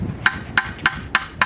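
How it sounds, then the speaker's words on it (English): Hammer blows on a chisel, driving out a hidden bolt on an oil pan of a Toyota engine: five sharp, ringing metallic strikes evenly spaced at close range, with no talk. "But I'm just going to use a hammer and a chisel,"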